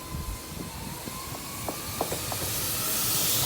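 Steam locomotive Tornado on a light engine movement from Penrith toward Carlisle, heard as a steady broad hiss of steam with faint rail clanks, swelling louder toward the end as the engine draws nearer.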